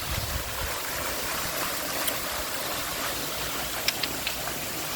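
A waterfall at the Renaissance pours in a steady, dense rush of water, loud and close with no pauses, a few faint clicks rising above it.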